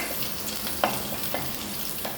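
Mustard seeds, dried red chillies and curry leaves sautéing in hot coconut oil for a prawn theeyal, a soft steady sizzle with a couple of light spoon taps while stirring, close and without speech.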